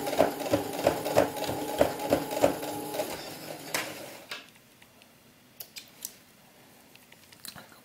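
A sewing machine stitches a small sheepskin doll vest in quick, even bursts of rapid clatter, then stops, leaving a few faint clicks and handling sounds.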